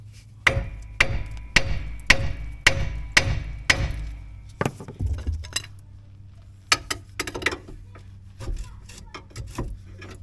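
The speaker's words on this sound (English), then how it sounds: "Let's get this 30mm bolt out." Work on the 30mm hub bolt of a Ford Mondeo mk4 front hub: a run of sharp, evenly spaced metallic blows close by, then irregular clanks and softer scraping of tools, with no talking.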